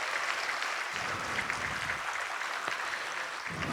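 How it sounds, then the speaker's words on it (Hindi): A gathering at a Vihangam Yoga satsang applauds, with a dense, continuous wash of many hands clapping at moderate volume throughout and no clear pauses. "एक बार सब एक दूसरे के लिए तालियों की गड़गड़ाहट कर रहे हैं"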